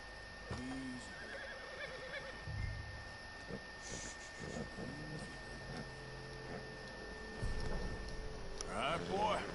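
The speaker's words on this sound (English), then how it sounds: "That looks like a decent horse." A horse in the video game Red Dead Redemption 2 neighs and snorts several times at close range, with soft hoof clops and a voice speaking quietly between the calls.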